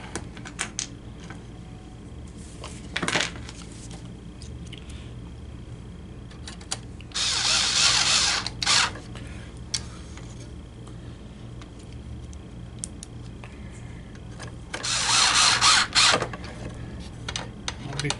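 Screws are driven into a Coinco BA30B dollar bill validator in two short bursts of whirring and rattling tool noise, with quiet clicks and handling sounds in between.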